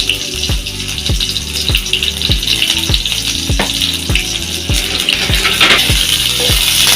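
Chopped onion fries in hot oil in a pan, giving a loud, continuous sizzle. Regular knocks from stirring or tapping recur about every half second throughout.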